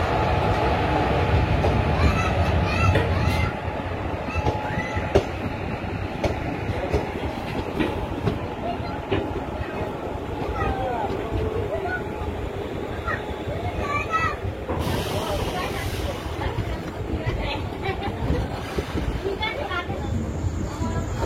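Teesta Torsa Express running steadily after leaving the station, a continuous loud rumble of rolling wheels and carriage noise with faint rhythmic clatter throughout, and people talking in the background.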